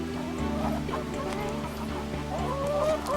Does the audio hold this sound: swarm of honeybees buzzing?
no